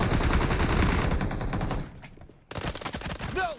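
Pistol fire in PUBG Mobile, played on a Snapdragon 865 phone, comes as a loud rapid burst of shots, then a short near-silent gap, then more shots and game effects.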